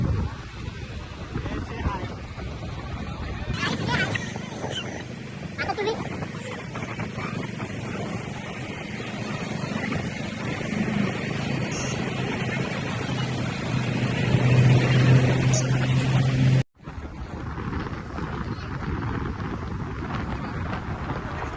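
Steady roar of wind buffeting the microphone while riding pillion on a motorbike in monsoon rain en route to Korigad fort, with a low engine drone beneath, continuous and loud before cutting out briefly near the end.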